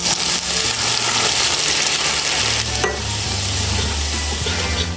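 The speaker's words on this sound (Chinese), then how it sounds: "锅里面倒点油，油烧热泼上来" Hot oil is poured over a bowl of minced garlic, bird's-eye chili, chopped scallion, chili flakes and white sesame, setting off a loud, continuous close-up sizzle and crackle that lasts the whole time.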